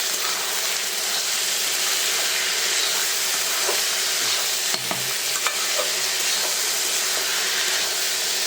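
Rice, dal and potato fry in a pot with fried onion, ginger, garlic and dried chillies, giving a loud, steady sizzle and hiss. Occasional sputtering pops and stirring sounds come through, with no talk.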